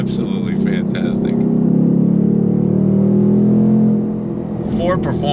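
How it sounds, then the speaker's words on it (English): A 2025 Ford Mustang GT with a Ford Performance exhaust gives a deep, loud, steady droning rumble that swells and then eases off, with a voice briefly heard at the start and the end. "Ford Performance exhaust sounds stupendous."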